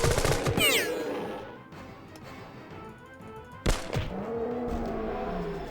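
Gunshots in Jagged Alliance 2, a turn-based tactical game: one loud sharp shot in the middle with a ringing decay, after earlier whistling and clattering game effects. Background sounds hum underneath.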